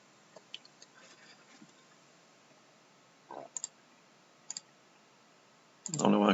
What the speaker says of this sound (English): I'm compulsively clicking Shuffle Hand